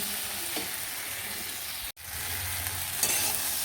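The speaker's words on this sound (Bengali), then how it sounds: "আর একটা ছোটো দেখে টমেটো দিয়েছি, দিয়ে ভালো করে ভেজে নিচ্ছি" Onion and a small tomato with salt fry in a pan, giving a steady close sizzle with a brief gap partway through before the hiss resumes.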